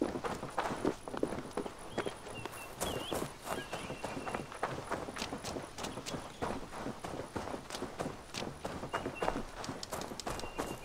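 Horse hooves clip-clop in steady, brisk rhythm as a rider travels on horseback through the Viking-era open world of the video game Assassin's Creed Valhalla, close and continuous across the whole stretch.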